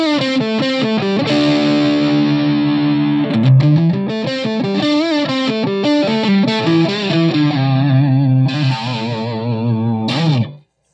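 Overdriven Charvel Pro Mod San Dimas Style 1 HH electric guitar, neck pickup coil-tapped, with a warm, rounder single-coil tone plays chords and a melodic run, ending abruptly.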